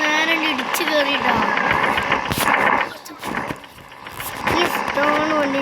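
A running car engine, damaged after a head-on crash, idles roughly and close by with uneven knocking pulses, while people talk over it throughout.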